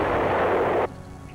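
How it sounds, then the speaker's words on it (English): American 175mm howitzer artillery fire: a single loud, broad, roaring blast sustained for almost a second, then cutting off abruptly into a faint low rumble. "The biggest American artillery pieces, the 175mm howitzers, could destroy a target at a range of 20 miles."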